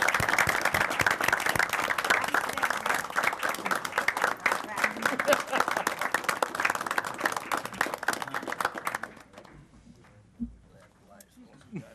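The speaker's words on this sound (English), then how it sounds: "Let's give him a big round of applause" An audience at a parish police jury regular meeting applauds loudly and steadily for about nine seconds, the dense clapping then cutting off into a quiet room with faint murmurs and a small knock.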